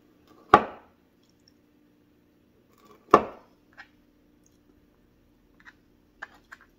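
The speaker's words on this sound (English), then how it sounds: "I'm going to cut that into 3 pieces" A knife slicing through a slab of keto fudge in a bread pan on a kitchen board, two sharp, close chops a few seconds apart followed by faint small taps and clicks.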